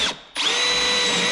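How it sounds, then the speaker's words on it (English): A power drill fitted with a Princess Auto step bit bores through a plastic lid, a loud, steady high whine that starts after a brief dip and runs on evenly, close up with no talking. "Princess Auto step bit, and then just drill the f***ing thing on one side here"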